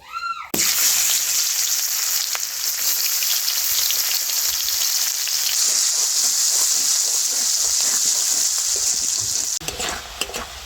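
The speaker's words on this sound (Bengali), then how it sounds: "এবারে দিয়ে দেবো মাছ ভাজা তেলের মধ্যে পেঁয়াজ কুচি," Chopped onion hits hot oil left from frying Indian mackerel, bursting into a loud, steady sizzle that runs almost unbroken for about ten seconds, with faint stirring scrapes near the end.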